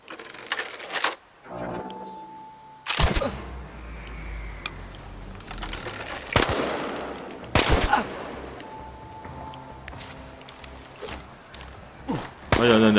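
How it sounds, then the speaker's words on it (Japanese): Machine-gun fire in the video game Chernobylite, heard as sharp, loud bursts of shots scattered through the stretch amid in-game ambience and other noises. "なんであいつら気づかねえ、こんな銃声してんのに。"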